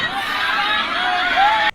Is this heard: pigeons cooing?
no